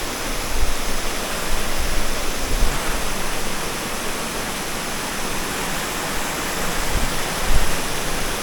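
Waterfall at a countryside fishing spot, a steady loud rushing roar of falling water that fills the whole stretch evenly, with a few low thumps and no voices.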